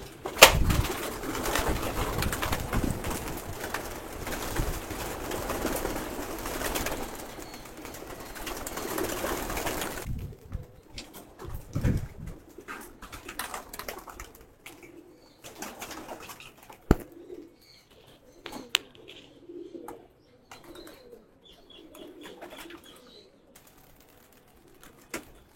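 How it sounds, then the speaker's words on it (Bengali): Pigeons of a racing loft, including khaki mottled birds, coo and flap, with a dense, busy burst of flutter and calls early on before the birds settle into scattered softer coos and wing sounds. "যেহেতু বৃষ্টি নাই, কবুতর সব আজকে ছেড়ে দেব।"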